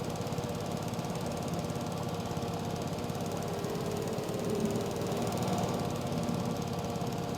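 A riding mower's engine in a farming video game runs steadily and loudly throughout, a dense continuous mechanical drone with no talk over it.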